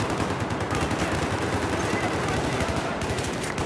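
Dense, rapid gunfire from a Battlefield 4 match, with overlapping machine-gun bursts and shots rattling without pause for the whole stretch, loud and close.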